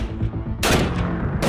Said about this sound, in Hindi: आतंकवादियों ने भागने के इरादे से हमारे ऊपर फायर शुरू कर दिया